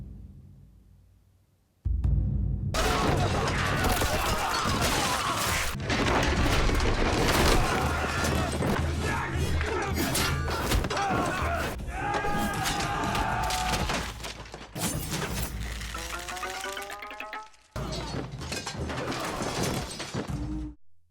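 Bursts of rifle gunfire from soldiers shooting down from a rooftop during a battle scene, loud rapid volleys with crashes and booms over a dense, continuous action soundtrack that cuts out briefly near the end.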